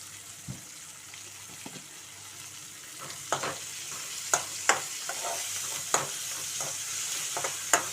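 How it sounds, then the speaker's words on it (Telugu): Dried prawns fry in a pan, a soft steady sizzle running throughout while a utensil stirs them with several sharp scrapes and taps, close up and with no voices. "చక్కగా వేయించుకోవాలండి మాడకుండా"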